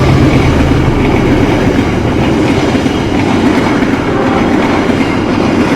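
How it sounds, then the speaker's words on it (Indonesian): A train rumbles loudly past at close range near Cibitung station in Bekasi, a steady heavy roar with rhythmic wheel clatter throughout. "Tuh kereta lewat."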